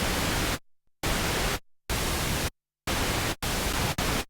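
Several loud bursts of steady, rushing pink noise from a Minimoog synthesizer app start and stop abruptly, separated by brief silences.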